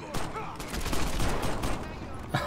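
Rapid bursts of gunfire in the action video game Crackdown, loud and continuous across the clip with a final sharp shot near the end, layered game noise and no clear talk.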